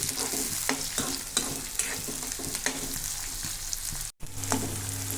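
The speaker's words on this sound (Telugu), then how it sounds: "ఉల్లిగడ్డలు పిచ్చి చేసేయండి లైట్గా రెడ్డిష్ కలర్ వచ్చేంత వరకు చక్కగా వేపండి" Chopped onions fry in a pan while being stirred, giving a steady close sizzle with periodic scraping and clinking of the spoon. Cooking is for a chicken head fry, with a brief dropout near the end.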